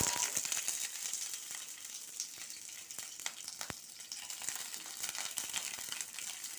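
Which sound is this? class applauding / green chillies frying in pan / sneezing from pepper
green chillies frying in pan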